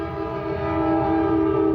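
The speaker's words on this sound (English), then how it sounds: "I forgot that there's a train" A train horn sounds in one long, loud, steady blast as a train approaches, with the low rumble of the rail traffic underneath.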